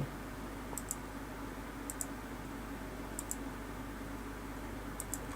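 A computer mouse clicking while installing VMware software: crisp, faint double clicks in pairs, four times, spaced a second or more apart over a steady hum and hiss. No voices.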